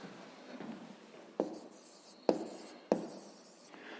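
Handwriting a maths solution, heard as soft scratching followed by three sharper taps or strokes spaced about a second apart, close and quiet, with no voices.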